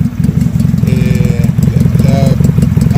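Zanella Patagonian 350 motorcycle with sidecar running close by, its engine putting out a loud, rapid chugging beat with steady pulses, while someone talks over it.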